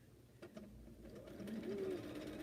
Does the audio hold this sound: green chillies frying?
no